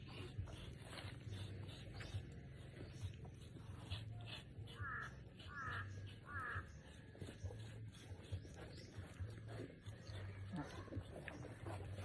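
A crow caws three times at a distance in rural Masbate, the calls rising over steady outdoor background noise and low voices.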